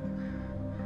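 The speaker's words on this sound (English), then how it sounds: "Crows! Calm the fuck down, crows!" Crows caw in the psychological horror video game Nevermind, harsh repeated calls at moderate loudness over a steady ambient drone.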